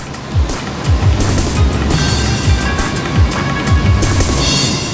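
Large release of about 6,500 gallons of water per second pours down a canoe run in Nottingham, England, making a loud, continuous rushing roar with heavy low churning and no voices.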